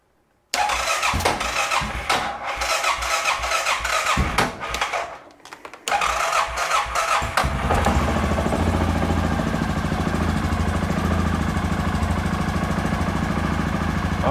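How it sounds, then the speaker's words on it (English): A 2007 Suzuki KingQuad 700 ATV with charging and running problems cranks several times, catches, and settles into a steady, loud idle that continues close to the mic with no talking. "So let's go ahead and fire it up real quick."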